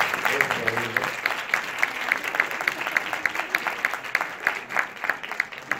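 Audience applause fills a hall at a talk on creating and dubbing Miraculous Ladybug, steady dense clapping throughout with a brief voice at the start.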